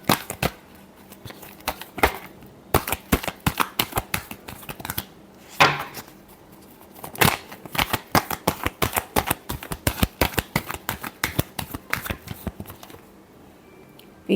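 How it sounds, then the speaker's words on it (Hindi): Tarot cards are shuffled by hand in a rapid series of crisp riffling flicks and slaps, loud and close, coming in dense bursts with brief pauses. "Last shuffle."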